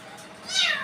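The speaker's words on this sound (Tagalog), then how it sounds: "Ito naman dalawang pusa." Two pet cats meow while eating, a short rising meow that swells near the end of a brief moment, fairly close and moderately loud, with no talk over it.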